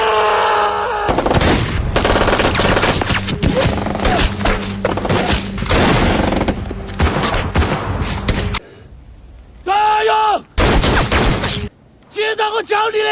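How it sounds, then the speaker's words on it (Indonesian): Dense bursts of gunfire as soldiers shoot at random in a sniper battle, loud and rapid volleys that stop and start, with voices speaking in the pauses. "menyuruh Cabi dan 2 pasukannya yang lain untuk menembak sembarangan"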